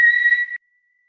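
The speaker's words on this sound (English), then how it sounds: "you can whistle through the mouth or through the teeth" A single breath exhaled and whistled through the mouth or teeth during a yoga practice, a steady clear tone lasting about half a second and then cutting off into silence.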